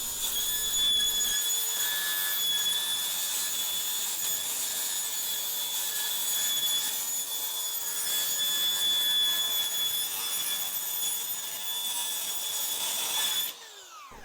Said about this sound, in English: It's a carbide blade, and yeah, it throws a lot of sparks, but it does cut through sheet metal.